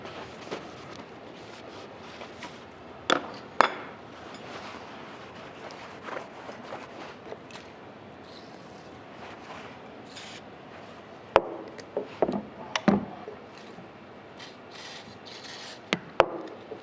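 Parts of a Marlin 336 lever action rifle being handled and fitted back together, with scattered sharp metallic clicks and clacks among quiet rubbing and shuffling, close and intermittent, no talk.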